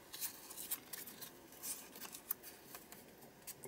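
Sharp paper tearing and crinkling while a mixed media art tag is aged and distressed, several quick close rips and rustles with short bursts of texture, heard alone without speech.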